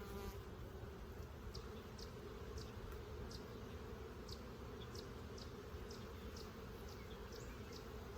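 Honey bees swarm around an open hive during a June inspection of brood and honey supers, a dense continuous buzzing hum close by, with individual bees zipping past in repeated short whines over the steady drone.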